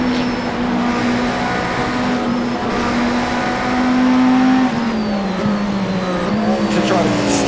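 An IMSA LMDh race car at Fuji runs loud and close, its engine note holding steady and then dropping in pitch as it brakes hard, with a faint tyre squeal near the end.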